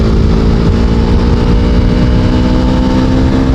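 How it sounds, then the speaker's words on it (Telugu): Engine of an old, powerful motorcycle drones loud and steady while riding, a heavy low rumble with continuous harmonic hum throughout. "పవర్ఫుల్ బైక్ అనమాట ఇది"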